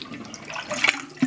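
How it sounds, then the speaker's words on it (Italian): Water poured off makeup brushes being washed makes a short, close splash and trickle that lasts about a second, with no one talking. "semplicemente adesso vado a togliere l'acqua"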